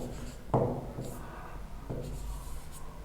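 Chalk or marker scratching across a board while trigonometry is worked out in a Class X lesson, with a few separate strokes, one louder burst near the start and quieter scrapes after, close by and alone.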